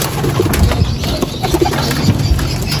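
Racing pigeons cooing in a loft, soft repeated low coos from several birds close by with light rustling and movement, no talk.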